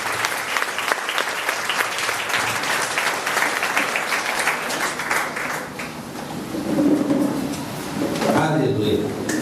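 A church congregation claps loudly and steadily in a dense burst of applause, which thins toward the end as voices and cheers rise over it.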